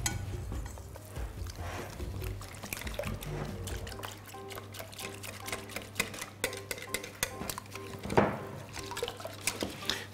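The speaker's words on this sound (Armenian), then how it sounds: "Պետք է այնքան հարենք, որ գնդիկները վերանան" Crepe batter for vegetable-stuffed crepes being stirred in a bowl to break up lumps, a steady wet swishing with soft clinks close by over a low background hum, no voices.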